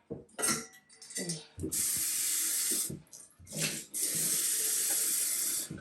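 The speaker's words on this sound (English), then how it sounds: "You just add water." A kitchen tap gushes in two long, loud hissing runs onto cassava being prepared for homemade fufu, broken by clatters, knocks and short gaps, with brief bits of voice between.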